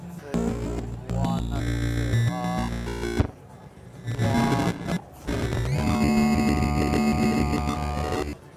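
Soulsby Oscitron wavetable synthesizer playing a dense buzzy sequence through its phaser effect, sweeping up and down, loud and continuous with brief breaks, heard at a NAMM 2016 show floor.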